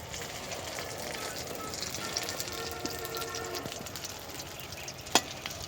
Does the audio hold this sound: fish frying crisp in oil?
yes